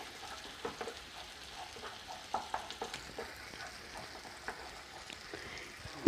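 Tomato sauce stirred into chicken frying in a pan, a faint, low sizzle with soft, scattered stirring taps and scrapes, quiet and close.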